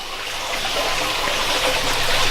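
Water trickles and splashes steadily into a backyard aquaponics sump, a constant close wash of running water that swells slightly toward the end, with no voices.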